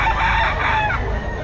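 A chicken rooster crows at the busy Grotto pet market, the loud call sustained over a steady background murmur.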